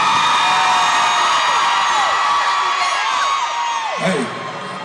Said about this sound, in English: if you married in this motherfucker, make some noise, man.